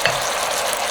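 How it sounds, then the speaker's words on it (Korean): Garlic stir-fries in a pan as a loud, close, unbroken sizzle, with a quick utensil clink at the start. "마늘을 볶아줍니다"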